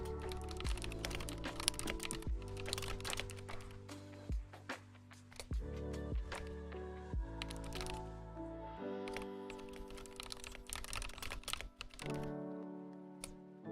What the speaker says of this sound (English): So in this, for the exercise, I'm gonna type it in the chat.